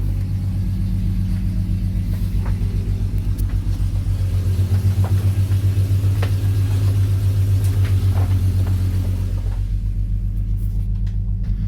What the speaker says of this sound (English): I am very happy with this V6. I mean, I got the exhaust where I wanted it.